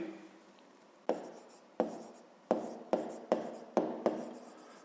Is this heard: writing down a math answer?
yes